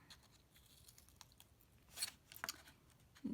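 Paper folder being cut with scissors to remove corner squares, a few short quiet snips and crisp paper sounds spread across a faint, near-silent background.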